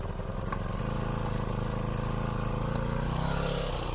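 A small two-stroke brush cutter engine starts up and runs in a field where sweet potato vines are being cut, giving a steady buzzing drone that holds at a fairly constant level throughout.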